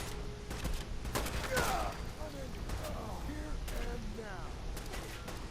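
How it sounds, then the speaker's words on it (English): A Fury grenade goes off in Fallout 4's Nuka World add-on, a series of sharp bursting blasts followed by crackling bangs, with a person talking over the game sounds. "Let's try this Fury grenade."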